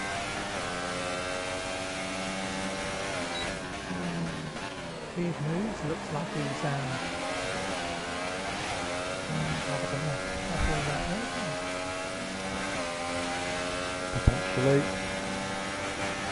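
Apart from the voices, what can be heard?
Mercedes F1 car engine on board, from video game F1 2018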